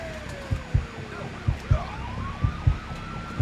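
Police sirens wail and sweep in pitch during a chase in the Mafia III video game, steady under repeated loud gunshot-like bangs close by.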